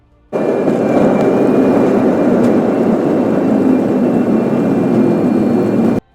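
Cabin noise aboard an airliner in flight shortly before landing in Taiwan: a loud, steady low roar of engines and airflow that starts abruptly, holds constant for about six seconds and then cuts off.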